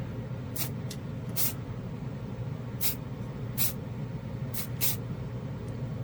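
An acrylic spray paint can hisses in several short bursts onto a Gundam model piece, quick sharp sprays spaced irregularly over a constant low background hum.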